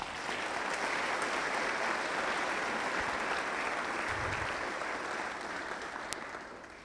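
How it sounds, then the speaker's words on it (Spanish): Applause from a church congregation at a diaconal ordination, dense sustained clapping that fills the space, heard from a distance and fading slightly toward the end. "También le brindamos fuertes aplausos."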